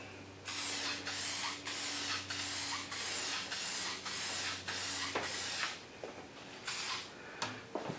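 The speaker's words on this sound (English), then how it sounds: "you want to start before you get to the piece, and can keep spraying until you get to the end of the piece." Spray can hissing in repeated bursts while painting a Xigmatek computer fan, about eight short even passes separated by brief pauses, close and fairly loud with no talk.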